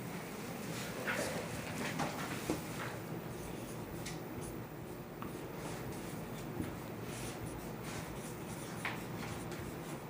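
Writing a heading on a classroom board, faint scratchy strokes and light taps spread irregularly over a hissy room background, no speech.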